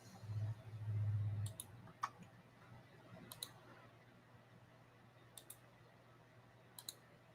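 Computer mouse clicking during vector node editing for box feet, a handful of sharp light clicks spaced a second or more apart, quiet, after a brief low hum at the start.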